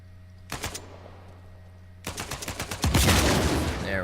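Rapid bursts of gunfire in Uncharted 4 blast a barrel open: a short volley of shots, a pause, then a longer loud string of shots building into a heavy crashing burst as the barrel bursts apart.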